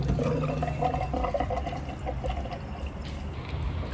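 Boostane fuel additive glugs from a bottle through a fill spout into the fuel tank of an R32 Skyline GT-R, a continuous close liquid pour and trickle.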